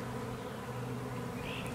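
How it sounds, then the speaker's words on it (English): Honey bees from a rescued tree colony swarm into an entrance hole, giving a steady, dense buzzing hum that fills the space close by with no voices. "Once a few bees go into that entrance hole,"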